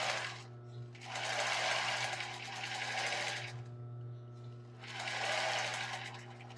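A sewing machine stitches a lace bra in two bursts of fast, buzzing motor whir over a constant low electrical hum, close up with a short pause between runs.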